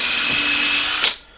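A drill drives a screw into hardwood while building a wooden cope and drag flask for metal casting. It gives one steady, close whine for about a second, rises briefly, then cuts off abruptly.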